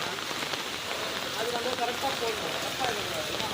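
Heavy rain pours in Velachery, Chennai, a steady close hiss of drops on surfaces with faint tonal sounds in the background.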